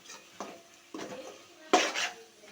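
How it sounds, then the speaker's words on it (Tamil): Potatoes being stirred and sautéed in a pan for village-style chicken kulambu, with a few separate clanks and scrapes of a spoon against the metal pan and a faint sizzle underneath, close and fairly quiet. "இப்போது நல்லா சேர்த்துட்டு வதக்கிக்கோங்க. நல்லா வதக்கிக்கணும்."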